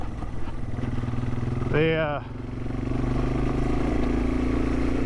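A Yamaha TW200 motorcycle engine runs steadily while riding through woods, a continuous mid-pitched drone with a brief rise around the middle, under a short spoken word.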